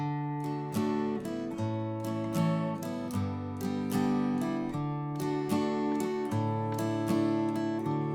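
Acoustic guitar strummed steadily in full chords, shifting from one chord to the next at an even pace, close and clear with no voices.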